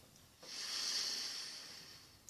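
One long, steady inhale through the nose sniffing continental coffee from a military ration, a breathy hiss close to the mic that swells and fades over about two seconds.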